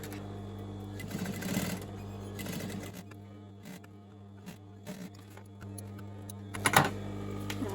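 A sewing machine stitches a zip onto a large shopping bag, running in a steady mechanical whir with short stops and starts and a sharper clatter near the end, with no talking.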